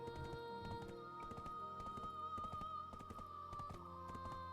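Horse hooves in the Black Desert Online video game: a steady, quiet clip-clop of a ridden horse, faint and even, running the whole time under a humming, tonal game background.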